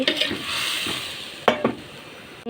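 Rui fish pieces go into a hot pan and cook with a loud, surging hiss that settles into a steady sizzle. A couple of sharp pan clatters come midway.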